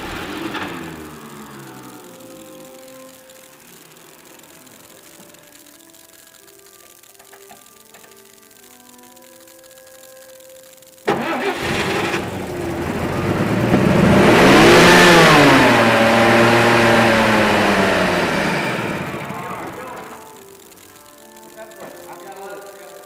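A fire engine cranks and catches after a quiet stretch of talk and light ticking, then revs up loudly, holds a high rising roar, and eases back down toward a rough idle, with voices heard nearby.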